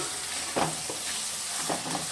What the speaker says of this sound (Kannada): ಇವಾಗ ಇದು ಟೊಮೆಟೊ ಮತ್ತು ಈರುಳ್ಳಿ ಚೆನ್ನಾಗಿ ಕುಕ್ ಆಗಲಿ